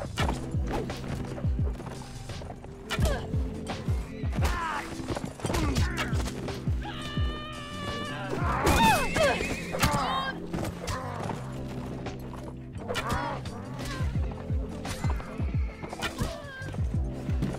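A horse in the Mount & Blade: Warband video game neighs and whinnies loudly in the middle of the passage, while clip-clopping hooves and other game sounds continue around it.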